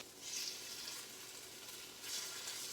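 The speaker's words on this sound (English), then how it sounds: "You hear that? Sizzling." Marinated chicken breast in canola oil and spices sizzles in a pan, a soft steady crackling hiss that swells briefly twice, faint and with no voices.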